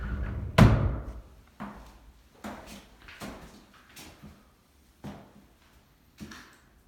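Sliding bypass closet doors in a room with unfinished trim, rolling and bumping in a series of about six quiet thuds and knocks with short rumbling slides between them.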